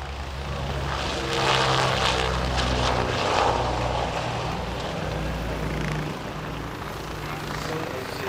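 A Lockheed Constellation propeller airliner rolls down the runway and takes off at the 2011 Wings Over Illawarra airshow: a loud, sustained droning engine roar that swells and then eases slightly as it passes.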